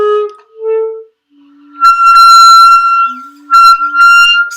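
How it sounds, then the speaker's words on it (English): Wind instrument played with misplaced fingers, giving a few short tones that jump to piercing, very high squeaks held for about a second each, loud and close with short gaps between. "you're getting squeaks and really super high notes"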